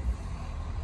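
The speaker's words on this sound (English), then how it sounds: "Come on, listen to the big truck motor." A 2018 Ford F-250 truck engine runs in a brief steady low rumble, close and even, with no talk.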